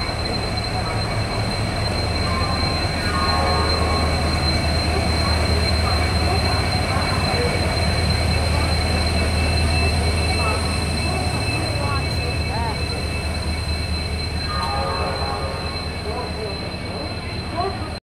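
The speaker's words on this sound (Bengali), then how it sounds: "আমাদের ট্রেনটা কিন্তু ঢুকে গেছে।" The Howrah-Chennai Coromandel Express pulls into Howrah station with a loud, continuous rumble of rolling wagons and repeated wheel squeals. Crowd voices sound faintly beneath it on the busy platform.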